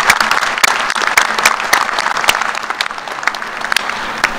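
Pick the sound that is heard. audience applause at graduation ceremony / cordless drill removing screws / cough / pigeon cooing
audience applause at graduation ceremony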